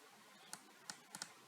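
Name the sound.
typing on a computer keyboard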